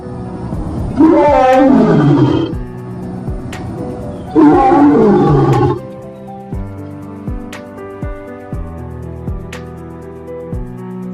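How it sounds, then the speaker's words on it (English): A lion gives two long, deep, powerful roars close by, each lasting over a second, followed by quieter music-like tonal notes and sharp taps. "The lion's majestic roar was designed by Ya'o"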